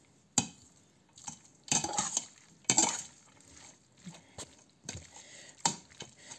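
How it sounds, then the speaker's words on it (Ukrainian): Spoon scraping and clinking against a bowl while spices are stirred into macaroni, a series of irregular bright clinks and scrapes at close range, with quiet pauses between strokes and no talking. "Тепер це все маємо розмішати."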